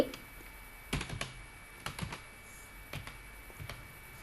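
Quiet clicking of a computer keyboard while typing in MS Word, in small irregular clusters of keystrokes spread across the span with faint background hiss.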